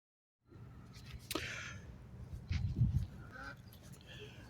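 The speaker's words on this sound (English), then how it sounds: "Pardon the sounds of the ducks." Ducks or geese honk and quack close by in repeated bursts over a steady low background rumble, with the louder calls in the middle of the clip.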